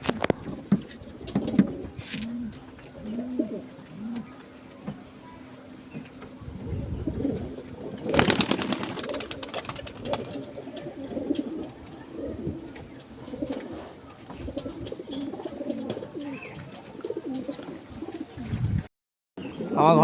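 Pigeons in a home loft, including breeding birds feeding their young, coo softly and repeatedly at close range amid rustling and wing flutters, with a sharp burst of flapping partway through and faint background noise.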